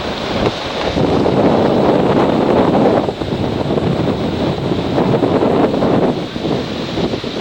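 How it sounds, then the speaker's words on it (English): Wind gusts buffet the microphone at an outdoor scale aircraft show, a loud broadband rushing that swells and eases in waves with no voices. "if the wind ever stops blowing"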